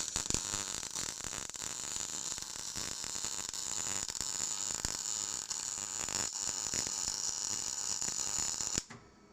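A Parweld XTC 181C welder lays a weld, giving a steady crackling, hissing buzz for about nine seconds that cuts off abruptly near the end, fairly close and without talk.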